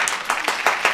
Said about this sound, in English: I'm giving him a round of applause